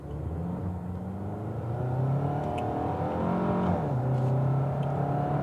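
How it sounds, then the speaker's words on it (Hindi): A Hyundai Sonata sedan in sports mode accelerates hard, its engine note climbing steadily, dipping briefly at a gear change, then rising again as the revs build, heard close from inside the car with no talking. "तो अब स्पोर्ट्स मोड में देखते हैं क्या करती है गाड़ी"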